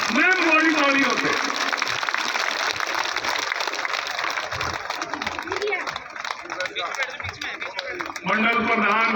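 Audience clapping welcomes a minister at a rail line inauguration ceremony in Haryana, a dense, steady patter of many hands running throughout, with voices over it at the start and end.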